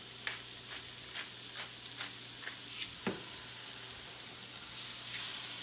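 Onions, mushrooms and peppers seasoned with pepper sauté together in a pan on high heat: a soft steady sizzle with a few scattered sharp ticks and crackles, close but fairly quiet, with no talking.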